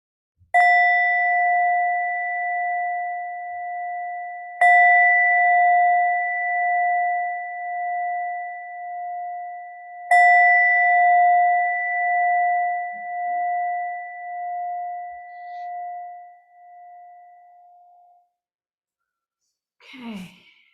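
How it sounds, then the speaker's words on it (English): A meditation bell is struck three times in a quiet room, each clear, ringing tone left to fade slowly before the next, the last decaying fully into silence before a soft breath near the end. "please continuing to practice through the sound of the bell as you hear it"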